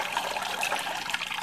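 Water flows steadily through a Sun aquarium canister filter on a cichlid tank, a continuous close trickling and gurgling with no breaks.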